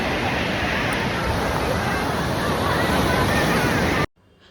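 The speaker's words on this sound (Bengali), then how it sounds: "আজকে চলে এসেছি সমুদ্রে স্নান করতে। আমি নামিনি, যা ঢেউ দিচ্ছে ভয় লাগছে।" Sea waves surge and break continuously on a beach at Puri, a loud, steady wash of surf with wind buffeting the microphone, faint crowd murmur behind, cutting off abruptly near the end.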